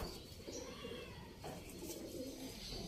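A pigeon coos in a loft, a soft low throaty call heard close over a busy background hum, with faint other bird sounds.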